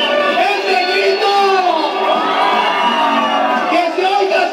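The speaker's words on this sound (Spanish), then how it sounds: "¡Ese grito!" A festive party crowd singing along to songs erupts in loud, sustained shouting and whooping, many voices overlapping close by with rising and falling cries throughout.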